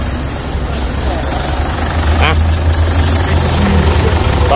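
A diesel Isuzu D-Max engine idles steadily with a low, even rumble, close and continuous, while someone talks over it.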